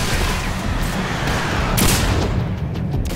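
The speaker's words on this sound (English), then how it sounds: "Is that a missile launcher? We're blocking missile." Missile launcher fire in the video game Singularity: a dense, steady barrage of booming blasts and crackling gunfire, with a sharp burst near the middle, continuous and loud throughout.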